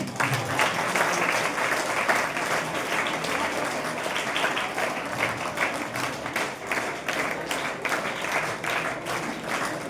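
Sustained audience applause at a high school's enrollment and girls' education festival, a dense, steady wash of many hands clapping without pause for the whole stretch.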